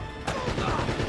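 Gunfire in Uncharted: Drake's Fortune, a sharp burst hits after a quiet moment, then a rough, rolling spray of shots and echoing impacts continues for about a second.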